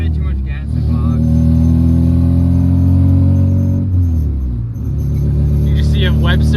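Nissan 240SX engine revving and bogging near, a loud steady mid-range drone that dips briefly then climbs again, with people talking over it inside the car.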